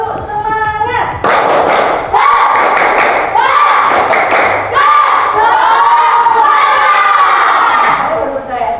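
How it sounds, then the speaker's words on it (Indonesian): Schoolchildren in a classroom perform a rhythmic spirit clap, with loud patterned clapping bursts mixed with the group's shouted chanting voices close by throughout. "Tepuk semangat!"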